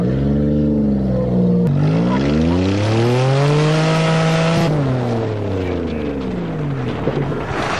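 A manual-transmission Toyota accelerating hard on a farm, its loud engine note climbing in pitch, dropping with a gear change, then climbing again, close and continuous.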